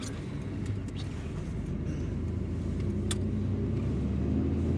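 A Chevrolet Nova's engine rumbles steadily nearby with a deep, throaty idle, a few faint clicks and knocks sounding over it.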